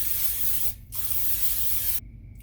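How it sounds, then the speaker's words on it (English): Two long hissing bursts of aerosol cooking spray onto a pan on medium-high heat, separated by a short pause, close and steady. "Go ahead and put a pan on medium-high heat and go ahead and spray it."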